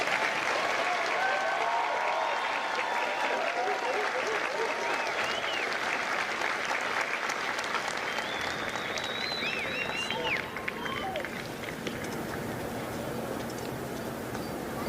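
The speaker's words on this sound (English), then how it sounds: "please join me in a round of applause for the company staff of Charlie" A large audience applauds the company staff at a Marine recruit graduation at MCRD San Diego, with steady dense clapping throughout, faint cheers and whistles mixed in, and a brief voice near the end.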